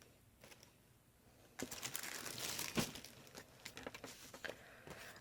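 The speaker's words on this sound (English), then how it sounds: "we're going to go ahead and fold this" Scored cardstock paper is folded for a handmade card, crinkling and crackling close up after a quiet start, with a brief crease and soft rustles that fade toward the end.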